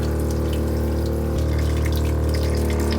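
Hot water runs steadily and loudly from a water-saving faucet aboard a sailboat, a constant rushing flow with no voices.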